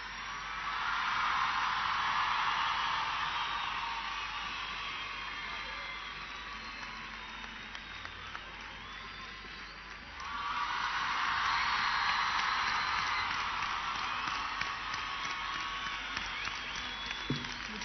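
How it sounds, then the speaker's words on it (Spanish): A large festival crowd at Cosquín 2012 applauds and cheers for Abel Pintos, a dense roar of clapping that dips briefly, then swells again at full strength. "Y esta ovación"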